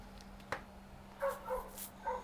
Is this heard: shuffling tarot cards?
no